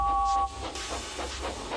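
Steam engine hauling freight cars uphill gives a sharp hiss with a brief whistle tone at first, then rhythmic chuffing puffs under steady noise, moderately loud and fairly close.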